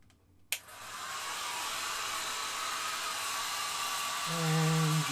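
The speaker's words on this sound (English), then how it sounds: "I'm going to grab my hairdryer" Handheld hair dryer switched on with a sharp click, then blowing a steady loud broadband whoosh for several seconds at a hobby painting desk, with a low hum rising near the end.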